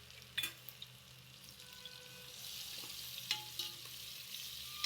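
Ginger, garlic and coriander paste sautéing in plenty of hot oil, with a steady soft sizzle and a few sharp clinks and scrapes of a spoon stirring the pan, no talking.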